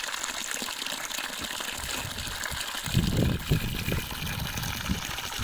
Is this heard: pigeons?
no